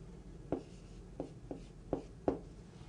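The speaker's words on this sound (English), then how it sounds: "I can also pick up a pen and write in here," A pen writes on a SMART interactive whiteboard, giving five short, crisp tapping strokes at uneven intervals, close by and alone, with no talking.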